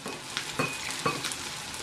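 The last potato pancakes (deruny) fry in a pan, making a close, steady sizzle broken by a few sharper crackles.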